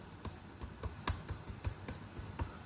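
Rapid keystrokes on a computer keyboard as an email address and a name are entered, a steady run of close, crisp clicks at an even pace with no talking.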